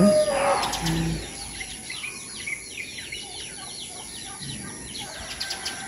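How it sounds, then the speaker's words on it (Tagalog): Birds chirp and tweet in an outdoor setting, with a quick burst of calls near the start, then scattered faint chirps over a steady background hiss. "Marami pong ibon doon."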